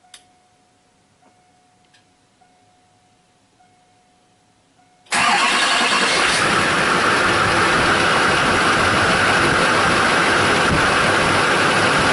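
A 2002 Duramax 6.6 diesel engine cranks and fires after several seconds of quiet faint ticking, then settles into a loud, steady, continuous idle, close by with no talking.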